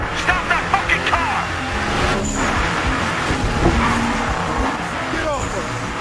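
A car in the video game Battlefield Hardline drives hard with a revving engine and tire squeal, loud and close, under the noise of in-game gunfire and voices.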